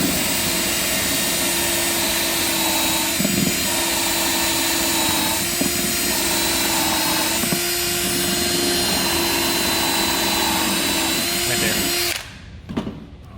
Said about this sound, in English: So we'll drill our hole all the way up to the tape line and not through the tape line.